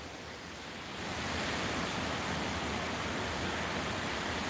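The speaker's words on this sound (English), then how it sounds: "Can you hear the wind, you guys?" Steady, rushing wind roars and builds after the first second, a broad constant noise with no voices.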